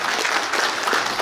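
Big round of applause from delegates at a union branch delegates' meeting, dense steady clapping filling the whole short stretch, close and loud with no talk over it.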